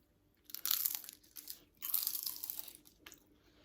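Crisp, brittle crunching from bites into flaky baklava, in several bursts of crackling chewing close to the mic, fairly quiet overall.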